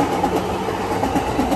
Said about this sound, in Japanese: 踏切の前で待っていますと、山手線の電車が通過していきました。